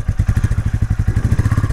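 A Royal Enfield Meteor 350 idling, a loud steady low thud-thud firing beat close by, even and unbroken, no talk.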